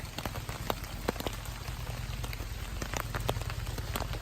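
Rain pattering at Steel Creek Campground, dense and close with sharp individual drop hits over a constant wash, steady throughout with no talking.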